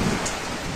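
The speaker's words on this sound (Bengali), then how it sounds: "ভালোই বৃষ্টিপাত, তীব্র গতিতে বৃষ্টিপাত, তার সাথে বজ্রবিদ্যুৎ" Kalbaishakhi thunderstorm in Barasat with heavy pouring rain, a loud, dense, continuous wash of rainfall with a low rumbling undertone, brief and without voices.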